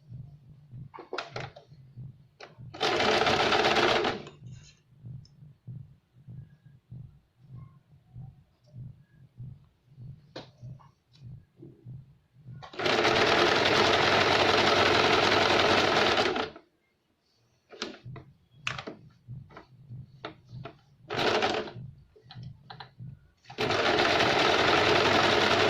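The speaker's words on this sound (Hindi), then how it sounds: "हम इसको यहाँ से और यहाँ से सिलाई देंगे।" A sewing machine stitches a fabric pouch in several loud, sustained runs of rapid stitching, separated by quieter stretches of handling, clicks and fabric movement.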